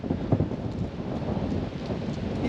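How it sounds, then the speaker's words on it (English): Strong wind gusting outdoors in Kosice, Slovakia, a steady rough rushing roar buffeting the microphone with no speech. "Oh gosh, it's windy."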